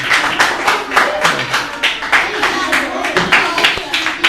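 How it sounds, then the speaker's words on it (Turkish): A group clapping together at a classroom performance presentation, a steady rhythmic patter of hand claps, fairly close and loud, with faint voices underneath. "Alkışlıyoruz."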